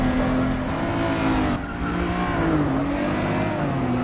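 Race cars roar through a track corner with engines droning and pitch gliding as they drift, several motors layered close together, loud and continuous with a brief dip midway.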